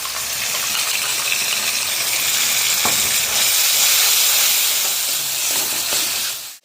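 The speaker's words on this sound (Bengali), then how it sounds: "দিয়ে দেবো মশলার বাটি ধোয়া জলটা" Rinse water from a spice bowl poured into a pan of frying masala of ginger, tomato, chilli paste, melon seed and cashew paste with yogurt, giving a loud, steady gushing sizzle and hiss that holds for several seconds, then cuts off.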